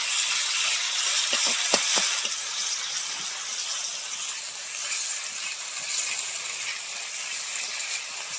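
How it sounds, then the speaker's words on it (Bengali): Garlic paste frying in a pan of hot oil for a fish-head muri ghonto, a steady bright sizzle running throughout with a few faint clinks near the start and no talk. "প্রথমে আমি দেবো রসুন বাটা, রসুনটা আমি প্রথমে ভালো করে ভেজে নেব।"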